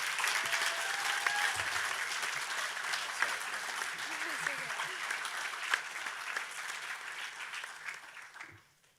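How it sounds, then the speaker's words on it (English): A large crowd claps steadily in dense, sustained applause at a high school graduation ceremony, fading out near the end. "Can we please give a round of applause to the best staff we have?"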